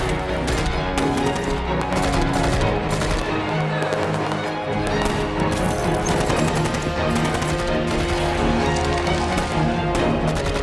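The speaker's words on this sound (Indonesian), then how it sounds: "baku tembak di antara mereka." Dense, rapid gunfire rattles through a battle scene from the film Defiance, where Nazi soldiers aided by local police storm a forest community; the shots are layered with a loud, busy soundtrack and occasional voices.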